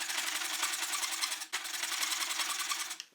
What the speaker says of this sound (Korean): 원활한 끌질을 하기 위해 촘촘하게 톱선을 넣어 놓도록 하겠습니다.